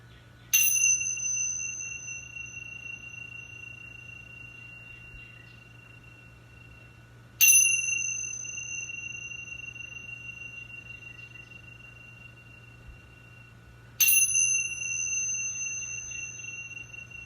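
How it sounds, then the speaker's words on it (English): A bell is struck three times during a quiet stretching and meditation session, each bright metallic strike ringing out and slowly decaying, spaced about seven seconds apart over a faint low hum. "bells are rung 3 times in the power of the spirit, mind, and body coming together to form one."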